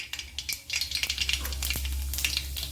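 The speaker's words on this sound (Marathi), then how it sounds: "तर चला आता आपण जिरे आणि मोहरी आपले तडतडून झालेले आहे." Mustard seeds and cumin splutter in hot oil, tempering for a spicy sprouted moth bean curry, with quick crackling pops over a steady frying hiss.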